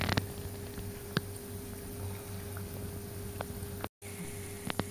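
Donuts fry in oil on a low gas flame with a soft, constant bubbling and a few light pops, close by and fairly quiet, broken by a brief dropout near the end, with no talking.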